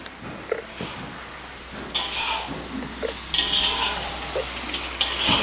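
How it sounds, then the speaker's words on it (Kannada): Chicken frying in hot oil in a home kitchen, a steady sizzle with bursts of metallic stirring and pan clatter, close and moderately loud, no voices. "ಎಣ್ಣೆಯಲ್ಲಿ ಫ್ರೈ ಆಗ್ತಾ ಉಂಟು ಚಿಕನ"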